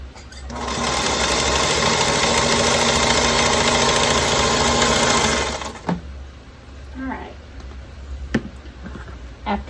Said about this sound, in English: we are going to sew a scant 1/4 of an inch on each side of this line